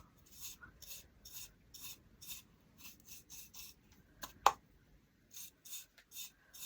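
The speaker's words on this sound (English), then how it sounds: "I'm wiping it pretty good" A cloth is wiped firmly back and forth over a rustic primitive craft piece in quiet, rhythmic rubbing strokes, with one brief sharper knock partway through.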